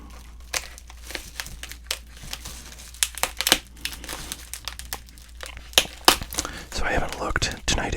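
Crinkling plastic wax-pack wrapper of sports cards being cut open, a series of close, sharp crackles and rustles at a soft, intimate level, with faint whispery breaths between bursts.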